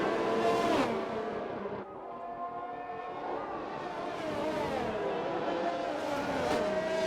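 Race cars in a racing video game at the Canada Grand Prix sweep past with engines whining and shifting in pitch, several overlapping passes close by, one sharp pass near the start and more revving through to the end.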